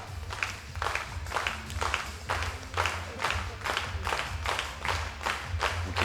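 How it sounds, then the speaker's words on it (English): An audience at a women's 10 m air pistol final claps in rhythmic unison, a steady beat of about two claps per second sustained throughout, moderately loud and reverberant. "We can hear people clapping."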